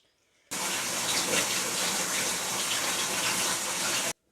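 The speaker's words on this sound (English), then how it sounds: "So I'm going to go ahead and start rinsing this out so we can see the results." Running water gushes steadily from a shower or tap while toning conditioner is rinsed out of hair, a loud, even rush that starts and stops abruptly.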